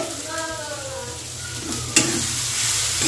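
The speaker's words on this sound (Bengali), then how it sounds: "তারপর এটাকে একটু কষাবো।" Tomato fish curry masala with chili powder fries in a pan, a steady sizzle with stirring scrapes throughout and a sharper clatter near the end, close and moderately loud with no talking.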